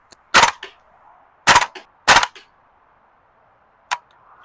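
A VFC AK74M gas blowback airsoft rifle fires four sharp, loud shots: three close together, then a fourth after a short pause, each a crisp crack over near silence.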